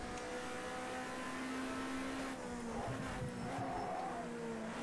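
Engines of Mercedes and Nissan race cars in a racing video game drone and rev at low volume, the pitch sliding as the cars brake with a brief tire squeal.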